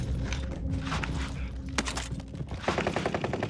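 Gunfire in a shooter video game, from a class-loadout match with an Automaton weapon, crackles in scattered shots and short bursts across the clip, close and loud, with a quick rhythmic volley near the end.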